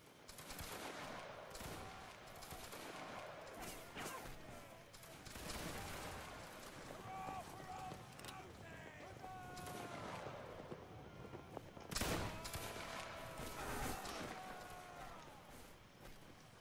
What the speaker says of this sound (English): Make ready. Shoot the guy to the left. Present. Fire.